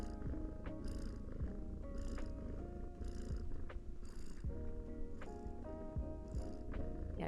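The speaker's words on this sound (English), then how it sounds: "But there is a kitty purring." A cat purrs steadily up close, a continuous rumbling drone with a regular rising-and-falling rhythm of breaths, loud and unbroken with no voices.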